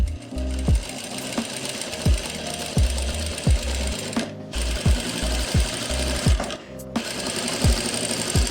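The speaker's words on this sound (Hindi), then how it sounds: "मैं ना सिलाई अब टेट्रॉन के ऊपर नहीं लगाऊंगा, कपड़े पे ही लगा रहा हूँ" A sewing machine stitches fabric for a Patiala salwar, running in short rhythmic bursts of rapid needle clatter separated by brief pauses, loud and close with no voices.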